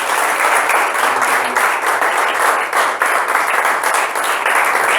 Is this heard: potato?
no